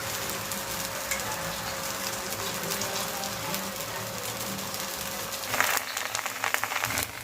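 Rice-flour ghavan batter sizzles on an oiled dosa griddle with a steady, rain-like crackle. A sharper burst of spattering comes near the end.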